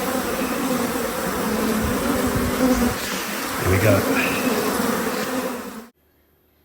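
Honeybees swarm at an open hive full of honeycomb, a dense close buzzing that fills the air. A short spoken phrase comes near the end, then the sound cuts off abruptly.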